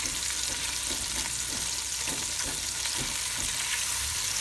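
Sliced onion frying in a pan for a tuna pasta bake, a continuous close sizzle with soft stirring scrapes at regular intervals and no talking.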